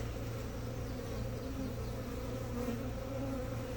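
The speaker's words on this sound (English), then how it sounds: "we've opened the box and they're kind of swarming around here" Honeybees swarm around an opened nuc box during installation into a new hive, their dense, even buzz filling the air close by and holding constant throughout.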